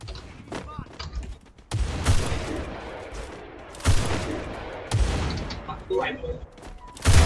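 Bursts of gunfire in the Free Fire mobile game, a sniper-only match. The loud, repeated volleys come in clusters, with excited players talking over them.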